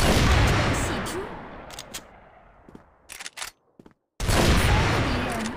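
Gunfire in a shooter video game opens with a loud, dense volley of shots, thins into scattered sharp cracks, drops to a moment of silence, then another heavy burst follows.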